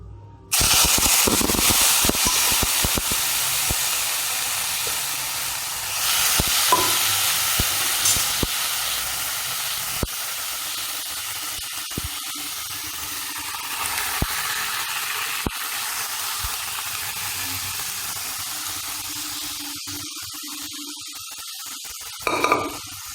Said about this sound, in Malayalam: അതിനുശേഷം നമ്മൾ നേരത്തെ വേവിച്ച് വെച്ചിരിക്കുന്ന ബീഫ് ഈ വഴറ്റിയിലേക്ക് നമുക്ക് ഇട്ട് കൊടുക്കാം